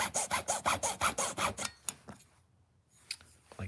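A hand saw cuts through wood in a miter box, with about eight quick, rhythmic rasping strokes close by, then a few softer scrapes and taps as the cutting stops.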